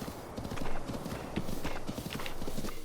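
Horse hooves clip-clop steadily in Breath of the Wild, a fairly loud, continuous patter of footfalls with a brief whinny-like sound mixed in.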